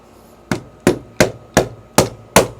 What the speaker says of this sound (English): I'll use my little hammer here.